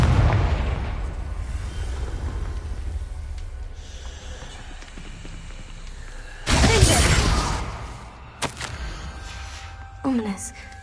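A Confringo fire spell blasting in Hogwarts Legacy, one sudden loud burst rising out of rumbling ambience, followed by smaller crackling pops and a second short bang, with speech mixed in.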